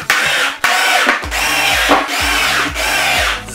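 Power drill or screwdriver driving screws into wooden boards while building a stand for fireworks rockets, several short loud whirring bursts rising and falling in pitch with brief pauses between them, close up with no talking.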